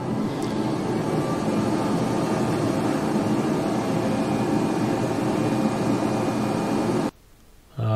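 Smoke extractor fan of a Creality Laser Falcon 2 Pro enclosed 40W laser engraver running close up with a loud, steady airy roar, cutting off abruptly near the end to near silence.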